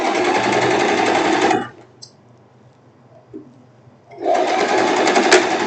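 A sewing machine runs a straight seam on silk in two loud, close bursts of rapid stitching, separated by a few seconds of near-quiet with small handling clicks.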